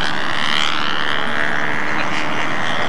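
A radio-controlled model airplane with a glow engine flying on a windy day, a loud steady buzzing drone that holds nearly constant throughout, with heavy wind rumble and no talking.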